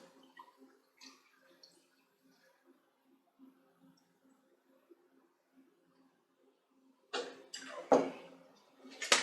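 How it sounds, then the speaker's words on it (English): A tequila cocktail is poured over ice in a mixology class, a short splashing pour with ice rattling that arrives after a quiet stretch of faint clinks and soft sounds. "then once you have that completed, you just pour it over your ice"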